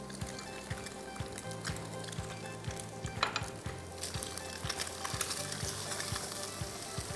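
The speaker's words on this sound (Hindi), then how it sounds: "फ्राई हो रहा है।" Chicken fried rice frying in a pan, a steady broadband sizzle with repeated clanks of a spatula stirring against the metal, close and continuous with no talking.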